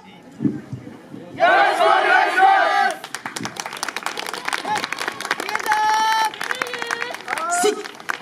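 A crowd at an outdoor festival in an iris park cheers and calls out loudly for a team's dance performance, with a burst of shouting followed by scattered claps, whistles and voices over festival music.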